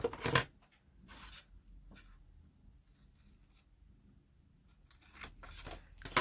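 Scissors snip through paper while an envelope flip is being made, with a few short crisp cutting bursts separated by quiet pauses and close, light rustling.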